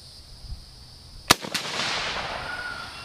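A single sharp rifle shot from an 1895 Chilean Mauser in 7x57 made in Berlin by Loewe, fired at an outdoor range, a loud close crack followed by a brief echo and a fading rumble of reverberation.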